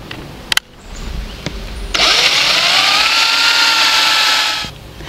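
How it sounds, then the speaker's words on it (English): A power drill bores a hole into the center of a wooden post for a patriotic DIY decoration, whirring loudly and steadily for about three seconds after a couple of brief clicks, then stopping. "I'm going to put on a bit for it and then I'm just going to drill a hole right in the center of"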